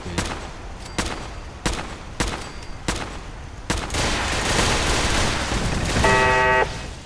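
Rocket turrets in Fallout 4 fire a series of sharp, loud blasts roughly every second, then give way to a dense, sustained roar of gunfire and explosions, with a brief electronic beeping near the end.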